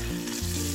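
Sliced ginger in hot coconut oil gives a short, steady sizzle, up close and continuous.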